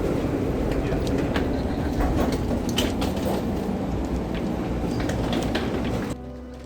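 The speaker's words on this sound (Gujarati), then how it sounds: "આ ટ્રાન્ઝિટ ટ્રેન અંડરગ્રાઉન્ડ ચાલે છે, એટલે કે એરપોર્ટની નીચે એકદમ" An underground airport transit train runs beneath the terminal with a steady rumble and clattering rattles, loud and close, before the sound drops abruptly near the end.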